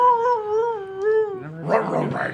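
A person imitates a dog with a wavering, howl-like drawn-out vocal tone that ends in a rougher, noisier yelp, close and loud.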